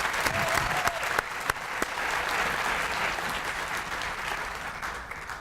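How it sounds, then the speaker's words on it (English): A steady round of applause rises from an audience at a Northern Manhattan community address, dense and continuous with a few sharper claps standing out throughout. "let's give them a big round of applause for the leadership too"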